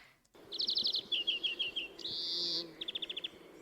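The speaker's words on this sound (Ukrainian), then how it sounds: "Це соловейко." Nightingale song, bright repeated chirps and a sustained whistled trill in quick bursts, close and clear over a faint hushed background, with no talking.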